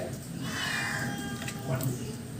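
A cat meows in a drawn-out, wavering cry at moderate distance, with a second shorter call near the end, over low background noise.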